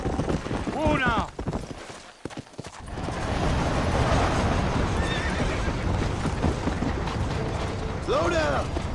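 A horse in Red Dead Redemption gives a loud, close whinny, then breaks into steady galloping hoofbeats with faint creaking tack, and ends with a second whinny; a voice speaks briefly near the start.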